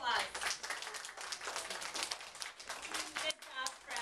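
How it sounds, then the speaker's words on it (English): Students at a school merit assembly receive applause, uneven clapping from a modest crowd heard somewhat faintly, with children's voices and chatter mixed through it. "Let's give these students one more round of applause."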